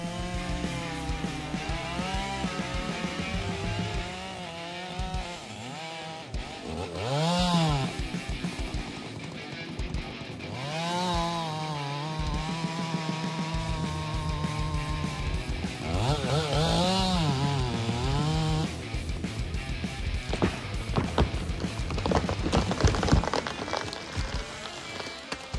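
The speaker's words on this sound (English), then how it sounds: "the MS-881 is capable of cutting large trees quickly and effectively" Large Stihl MS-881 chainsaw cutting big trees: a loud, continuous two-stroke snarl that repeatedly bogs and revs back up as the bar works through wood, close and sustained throughout.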